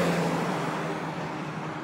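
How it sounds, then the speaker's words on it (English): Continuous road traffic noise, a broad low rumble of cars passing nearby, steady throughout with no talking. "there's some car noise."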